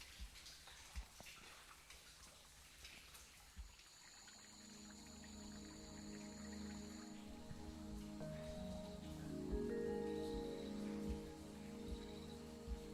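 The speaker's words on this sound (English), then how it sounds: "you see the drops of spring water that sort of drizzle down" Spring water drizzling and dripping inside a cool cave in Shaoguan's Danxia Mountain, a soft scattered patter of drops with faint tonal ringing, quiet and distant throughout.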